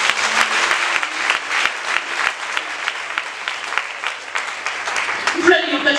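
A church congregation claps and cheers in sustained applause, a dense crowd of hands filling the space steadily until it thins out at the end.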